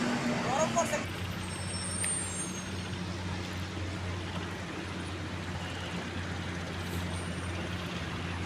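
Heavy trucks rumble past at the Padma Bridge toll plaza, a steady low engine drone with a sharp air-brake hiss near the start, under continuous traffic noise.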